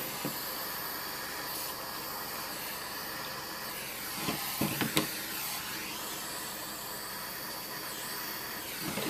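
Steady broad hiss of a fuel torch burning as cut nylon cord is melted at the end to keep it from unravelling, running continuously with a few brief louder bursts partway through and no talking.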